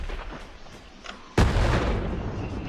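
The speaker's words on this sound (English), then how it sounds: "Frag's going out." A frag grenade explodes in Hell Let Loose, a sudden loud close blast after faint distant shots, followed by a lingering rumbling roar.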